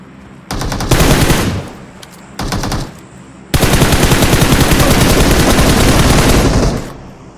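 Automatic gunfire from a mobile shooter video game: loud bursts of rapid shots, two short volleys followed by a long sustained barrage of about three seconds that then fades out.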